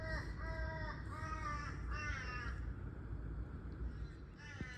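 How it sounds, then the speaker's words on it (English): Several crows caw in the background outdoors, a series of harsh repeated calls in short bursts, fairly faint over a steady broadband hiss. "with the crows having their say in the background"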